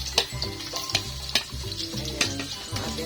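Onion and ginger frying in a pan for Filipino octopus adobo in coconut milk, a continuous sizzle broken by several sharp scraping stirs and clatters at roughly even intervals, close and fairly loud.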